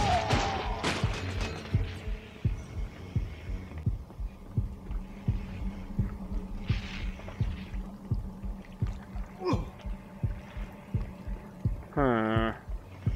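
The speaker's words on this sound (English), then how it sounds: "That man we killed seemed to have turned into a heartbeat." Steady heartbeat thuds pulse through a dark post-apocalyptic Polish setting in the video game Afterfall InSanity, regular low beats over a droning hum, with a few brief higher game sounds.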